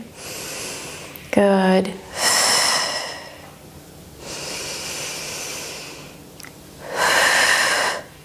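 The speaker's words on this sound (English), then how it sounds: "Breathe in. Exhale." Long, forceful exhalations and a sharp inhale from someone doing a postpartum diastasis recti workout, three sustained breathy rushes spaced a few seconds apart, close to the mic, with a short spoken word.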